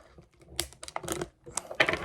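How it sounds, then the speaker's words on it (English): Close scissors snip and crinkle through plastic packaging, giving a quick run of sharp clicks and crackling rustles. "I'm going to use the scissors."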